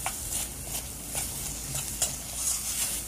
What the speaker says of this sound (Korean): 불은 계속 센 불에서 볶으세요